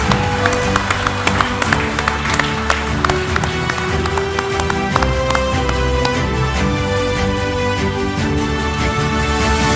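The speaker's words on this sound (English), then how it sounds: "Can we get another round of applause" Audience applause at a national SME awards ceremony as winners come forward for prizes, scattered clapping running steadily beneath loud, continuous music with sustained tones throughout.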